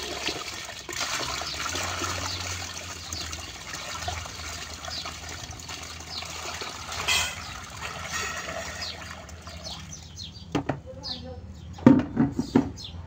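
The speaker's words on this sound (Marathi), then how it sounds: "त्यात हळूहळू पाणी टाकायचं, जास्त जोरात पाणी टाकायचं नाही, हळूहळू पाणी टाकत राहायचं।" Water pours slowly into a container for planting lotus, making a steady gushing trickle that runs for most of the stretch, followed by a few sharper splashes and drips near the end.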